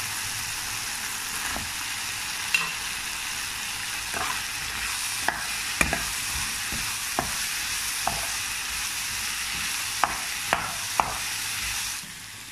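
Fried idli pieces go into a pan with tomato sauce for chilli idli, under a continuous loud sizzle with regular sharp scrapes and taps of a spoon stirring through the whole stretch, stopping abruptly at the end.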